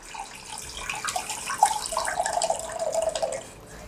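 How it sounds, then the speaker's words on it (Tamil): Water pours steadily into a pot for making instant lemon pickle, a soft continuous trickle with a splashy, bubbling tone that swells in the middle and then tapers off. No one speaks. "இதுக்கு வந்து தண்ணி விட்டுருணும்."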